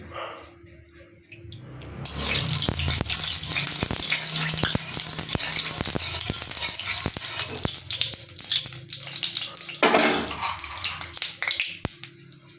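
Lentil dumplings (bori) frying in hot oil in a wok, a steady close hiss and crackle of sizzling that starts abruptly and continues with scattered pops, with no talking.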